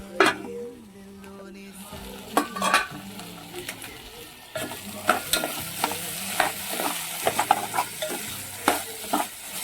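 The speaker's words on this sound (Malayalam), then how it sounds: "ഒന്ന് ഇളക്കി ആ ഇഞ്ചിയും വെളുത്തുള്ളിൻ്റെ പച്ചമണം ഒന്ന് മാറുന്നത് വരെ ഒന്ന് ഇളക്കി മൂടി വയ്ക്കാം." Ginger garlic paste stirred and frying in a pan: a steady sizzle with repeated scraping stirs and light clinks of a spoon against metal, fairly close, with no talking.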